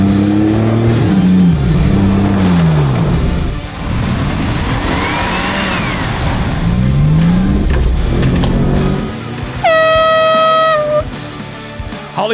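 Off-road build vehicles race head to head, including a Jeep, their engines revving and rising and falling in pitch as they pass at close range, followed by a sharp high tonal whistle near the end.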